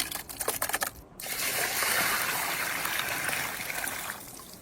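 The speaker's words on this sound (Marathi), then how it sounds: "आपण आता कपुरे व्यवस्थित धुवून घेऊ स्वच्छ पाण्याने।" Goat testicles being rinsed in clean water for a fried thecha dish, with steady running water and splashing that follow a few sharp knocks, close by and with no talking.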